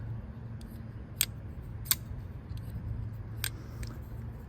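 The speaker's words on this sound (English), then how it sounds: "It's got a little ting when you open it." A Jack Wolf Knives Scuffle folding knife with an S90V blade opening, giving a few faint, sharp metallic tings and clicks spaced apart over quiet background hiss.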